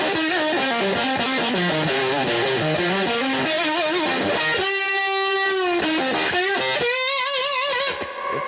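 Heavily fuzzed electric guitar playing a wavering, bending line, then sustained chords that cut off abruptly as the gate snaps shut; loud and saturated.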